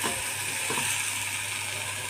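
Thecha, a green chilli relish, roasts on low heat in a pan, giving a steady soft sizzle and hiss throughout with a couple of faint stirring scrapes.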